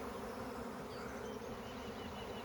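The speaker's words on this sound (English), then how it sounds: "Oh yeah, they're definitely swarming." A honeybee swarm streaming into the air from a strong hive makes a dense, continuous buzzing drone of countless wings, steady and loud throughout without a break.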